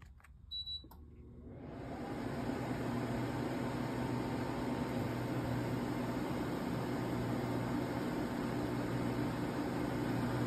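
A Hisense portable air conditioner using R410A refrigerant runs in dehumidify (dry) mode, starting with a few beeps and then settling into a steady, close fan hiss and low hum that holds evenly to the end.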